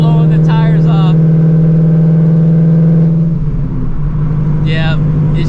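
A 900 HP Shelby GT350 with a built transmission spins its tires under hard acceleration: a loud, steady engine drone runs throughout, dipping briefly near the three-second mark, with short bursts of voices over it.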